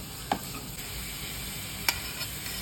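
Onions sauté with salt in a pan, giving a low, even sizzle with a couple of sharp spatula clicks against the metal.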